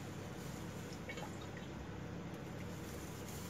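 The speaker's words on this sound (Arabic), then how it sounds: "لو ناخد بالنا ونسمع صوت السيرب بتاعها هو نازل عليها وهي سخنة" Cold syrup poured over hot freshly baked galash pastry, a steady, soft fizzing and sizzling wash with faint trickling, quiet and continuous throughout, with no talking.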